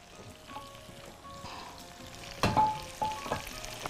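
Onions frying in a pan and being stirred, a quiet crackling sizzle broken by a few louder scrapes and clinks of the spoon.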